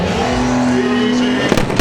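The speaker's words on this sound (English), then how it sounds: "This one's breathing its turbo exhaust right out the fenders" A Toyota Supra race car with its turbo exhaust venting out the fenders roars past at a car show cruise, a loud steady engine drone broken by sharp popping cracks near the end.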